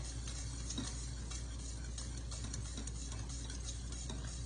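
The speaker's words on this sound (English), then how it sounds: "I'm just gonna keep stirring right here" A spoon stirs banana pudding as it cooks in a pot, making soft scraping and light ticking taps against the pan over a constant low hiss. It is close and continuous, with no talking.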